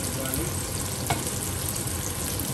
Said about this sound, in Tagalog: Lagay natin ang ating garlic dyan.